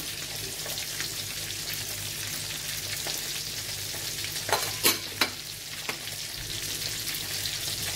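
Salmon fillet frying in a pan, a steady close sizzle with a few sharp clinks and scrapes as it is turned partway through.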